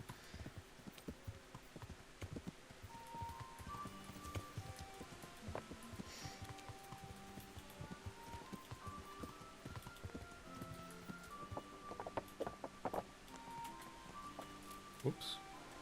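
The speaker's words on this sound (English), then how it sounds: "Everyone's running to get away from the rain." Steady rain patters in the medieval video game Kingdom Come Deliverance over horse hooves clip-clopping, with faint music running throughout.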